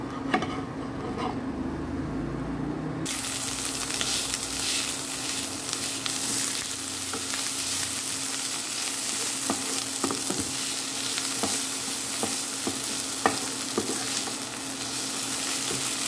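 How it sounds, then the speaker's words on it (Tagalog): A shawarma wrapper heating in a hot pan gives a steady, close sizzle and crackle that fills the whole stretch, with faint stirring and scraping, no talking. "Iinitin po muna natin ang wrapper bago natin ituloy ang ating ginigisa para masarap po."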